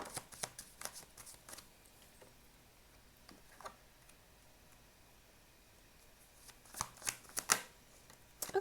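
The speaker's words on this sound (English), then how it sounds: "I'm just going to carry on pulling some cards out for you." Oracle cards being shuffled and pulled during a tarot reading: faint, close-up riffling and flicking in quick clusters near the start and end, with quieter pauses between.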